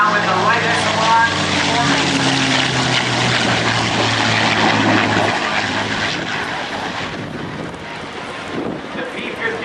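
A P-51 Mustang with a Packard-built Merlin engine roars low past the crowd at an airshow, a loud droning propeller sound that slowly fades, with wind buffeting the microphone and an announcer talking over it.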